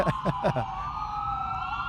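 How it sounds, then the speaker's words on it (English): An ambulance siren passes close on a street, its rapid yelping warble giving way to a steady, slowly falling wail as it goes by, heard alone over low traffic rumble. "Let's wait for this fucking rude ambulance to go past us."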